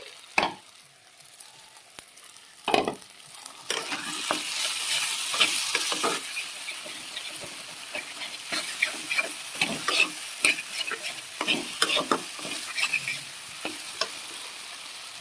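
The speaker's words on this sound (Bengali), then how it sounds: "এবার আলুটা দিয়ে দিচ্ছি" Potatoes are tipped into a hot pan for a soybean and potato curry, and the sizzle swells, then continues under repeated scraping and stirring strokes of a spoon.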